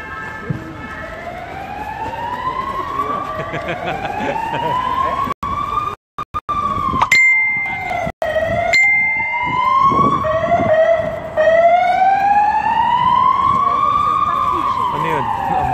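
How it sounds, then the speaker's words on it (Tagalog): A wailing ambulance siren sweeps up and down in long repeated cycles on La Rambla in Barcelona, loud and close, with a few brief dropouts and some talk faintly underneath. "ambulansya."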